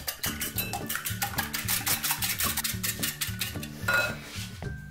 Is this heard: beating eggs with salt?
yes